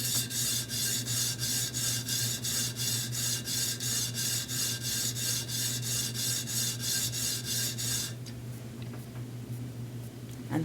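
Steady rhythmic rasping strokes, close and even, as a Wahl 5-in-1 adjustable clipper blade is sharpened by hand on an abrasive, ending with a few lighter scrapes.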